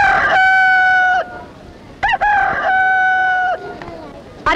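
A rooster crows twice as a film sound effect, each call a loud drawn-out cock-a-doodle-doo with a short burst of clucking between them.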